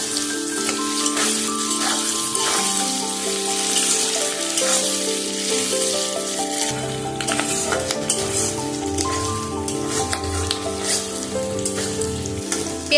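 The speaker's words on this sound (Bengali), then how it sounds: "পেঁয়াজটা একটু ভালোভাবে ভেজে নেব।" Sliced onions frying in a pan over a medium-high gas flame, giving a steady, close sizzle that runs continuously and alone, with faint stirring scrapes and no talk.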